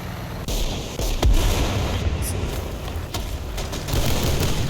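Grenades in the War Thunder video game, ordinary HE-type grenades, go off in several sharp booming blasts spread across the moment, loud and near over a steady rumbling battle background.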